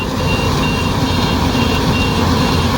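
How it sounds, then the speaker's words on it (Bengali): A Yanmar AW70GV rice harvester turns in a paddy field to unload harvested paddy, giving a loud, steady engine roar with a continuous warning beep running through it, close by and with no talking. "গাড়ি ঘুরিয়ে ধান ঢালছে"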